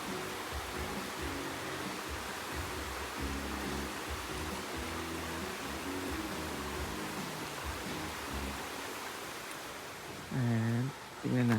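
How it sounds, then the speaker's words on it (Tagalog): Clear river water flowing at Hinaguan, a soft continuous rushing murmur, fairly quiet and even, with a short burst of speech near the end. "Sarap talaga pakinggan kapag umaagos yung tubig,"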